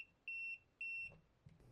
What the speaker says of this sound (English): it should beep when I test it with my voltage detector